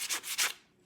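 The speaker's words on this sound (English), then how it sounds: "I'm going to do some sanding" Short rubbing strokes of sandpaper on paper covering a Dollar Tree cross, two quick scratchy passes followed by a fading scrape.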